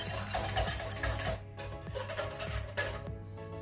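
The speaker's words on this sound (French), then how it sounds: "Et on va continuer de mélanger afin que tous les liquides soient bien homogènes" Muffin batter for chocolate chip muffins is stirred in a bowl, a steady scraping, clinking churn with rhythmic knocks of the utensil against the sides, close and continuous with no talk.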